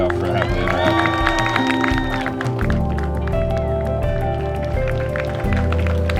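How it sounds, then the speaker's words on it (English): Wedding guests cheer and clap loudly over music, voices mixing in a noisy, festive din. "Make some noise for Mama"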